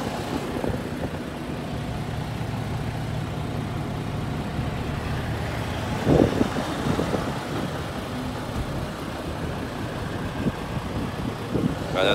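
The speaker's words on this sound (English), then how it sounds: "Got another truck pulling up already." A truck's engine rumbles steadily along a freeway amid roadside brush fires, with traffic noise swelling briefly midway as a vehicle draws near, then settling back to a constant drone with no talk.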